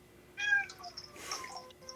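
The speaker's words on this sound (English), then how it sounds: "I heard a kitty." A cat meows twice in quick succession, clear and fairly close, then gives a softer breathy hiss-like sound, with no talking over it.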